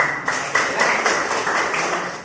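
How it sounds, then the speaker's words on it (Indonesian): A class of students claps in rhythmic unison, with about eight sharp group claps at a steady beat in a classroom. "Oke, tepuk tangan."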